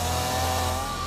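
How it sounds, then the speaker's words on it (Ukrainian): Chainsaw running steadily as trees are felled in a Carpathian forest, a continuous loud engine drone with a steady low hum throughout. "Карпатська різня бензопилою"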